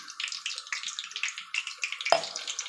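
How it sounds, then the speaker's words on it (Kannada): Water poured into a batter for raw banana chips, a steady close splashing pour that runs throughout, with one sharp clack near the end and no voices. "ನೋಡಿ ಈಗ ಸ್ವಲ್ಪ ನೀರು ಹಾಕ್ಕೊಳ್ಳೋಣ."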